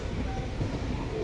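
An underground MRT train in a Taipei station gives a steady low rumble and rolling rail noise in the enclosed platform, with no voices.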